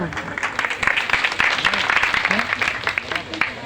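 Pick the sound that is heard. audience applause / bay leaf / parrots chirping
audience applause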